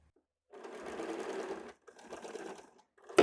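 A sewing machine stitches the seam of a size 32 high-neck blouse, two steady runs of close whirring separated by a short pause, ending with a brief louder knock.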